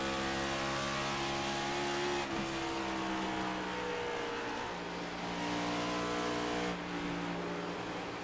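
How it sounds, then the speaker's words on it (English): Race car engine in a Cup Series racing video game at Dover, droning steadily with the throttle modulated at corner exit, pitch dipping and rising again over the loud, continuous engine noise. "And you heard the modulation of the throttle."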